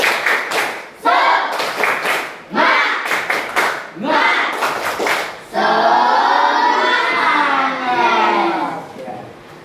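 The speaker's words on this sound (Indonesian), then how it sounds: "Coba Bapak ingin dengar semangatnya. Tepuk semangat." A classroom of children performs the tepuk semangat spirit clap, sharp rhythmic clap bursts in patterned groups, close and loud, with young voices chanting along, then a sustained stretch of loud cheering and clapping.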